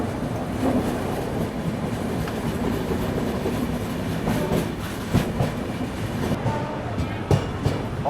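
Near the Karnavati Express route between Ahmedabad and Mumbai, a passenger train runs on the station tracks with a steady loud rumble and rhythmic clickety-clack wheel knocks that grow sharper toward the end.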